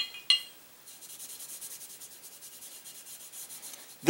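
Soft, rhythmic rubbing strokes on the metal of an H&K USP .45 ACP pistol clear light surface rust after years in an open holster. The strokes repeat steadily after an opening click, close and quiet.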